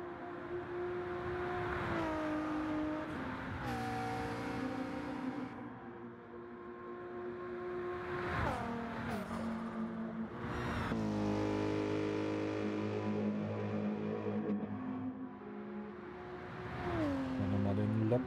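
Race cars in Gran Turismo 7 run warm-up laps around the reversed Tokyo circuit, engine notes rising and falling with gear changes as several cars whine past, heard under ongoing talk.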